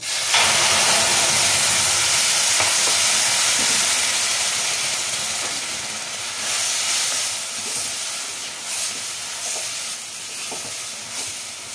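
Water poured into hot semolina for suji barfi bursts into a loud, dense hiss of steam that gradually settles into softer bubbling and sputtering, with faint stirring knocks underneath.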